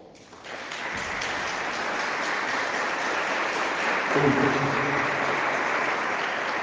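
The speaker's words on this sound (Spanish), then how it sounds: "Dele un aplauso a la madre." Sustained audience applause for a mother at a Catholic spiritual talk, steady dense clapping filling the room, with a brief murmur of voices partway through.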